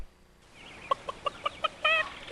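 A rooster clucks on a farm, a quick run of five or six sharp clucks rising into a louder drawn-out call, close by over quiet background noise.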